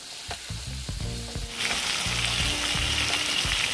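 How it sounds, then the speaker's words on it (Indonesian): Shrimp deep-frying in hot oil, a close, loud sizzle that jumps to a fuller, steady hiss partway through, with a few clinks from stirring underneath. "Kita akan goreng udang tu sehingga rangup"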